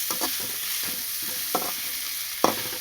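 Onions sauté in a pan for a raw mango dish, sizzling steadily at close range while a spoon scrapes and knocks the pan several times.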